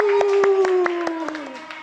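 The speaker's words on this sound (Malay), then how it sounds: "Tepukan untuk di sini." A class of pupils in a live maths lesson claps in a quick, even rhythm of sharp beats, with a sustained voice held underneath.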